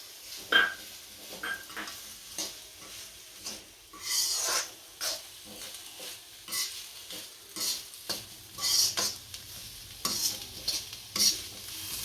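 Vegetables and cabbage stir-fried for veg fried rice, with a soft continuous sizzle broken by repeated scraping, tossing strokes of a spatula in the pan, close by and unhurried, with no talking.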